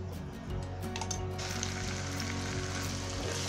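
Onion-coconut masala paste frying in hot oil for spicy okra, a continuous crackling sizzle with a low steady hum beneath, close and even throughout.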